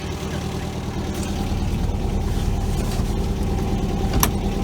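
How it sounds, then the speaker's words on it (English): A 1973 MGB GT engine rumbles steadily up close as the car drives, a low throbbing drone with a faint knock near the end. "I'm ready to drive it into the trailer."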